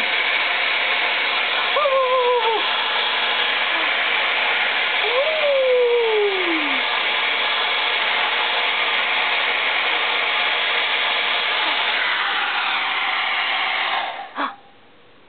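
A hair dryer blows steadily for about fourteen seconds, warming an eleven-week-old puppy; a broad whooshing hiss runs throughout with a few brief high squeaky whines, then cuts off near the end.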